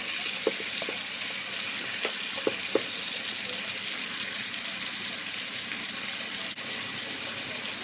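Tomatoes sautéing in a pan, a steady close sizzle and hiss with a few soft clinks of a utensil stirring early on.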